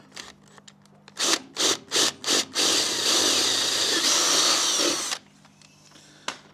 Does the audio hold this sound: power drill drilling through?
yes